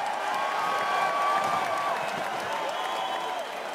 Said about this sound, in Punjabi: ਜ਼ੋਰ ਨਾਲ ਤਾੜੀਆਂ ਜੀ ਗਿੱਪੀ ਗਰੇਵਾਲ ਭਾਅ ਜੀ ਵਾਸਤੇ।